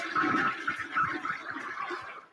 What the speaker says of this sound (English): did I hear another flush?